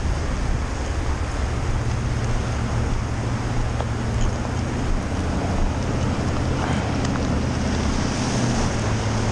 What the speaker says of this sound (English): Over here on the surf side. Yeah. It's literally 1 foot waves.